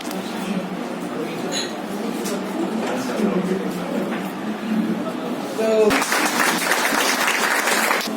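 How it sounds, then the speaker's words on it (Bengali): A seminar audience breaks into sustained applause, steady clapping that swells louder near the end, with a voice talking over it. "জোরদার হাততালি হয়ে"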